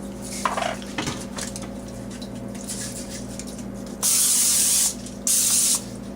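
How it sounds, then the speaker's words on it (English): Two short bursts of Pam cooking oil spray hiss, each about a second long, over a low steady background hum with faint clinks beforehand. "I always use a little bit of Pam and just spray a little bit of that."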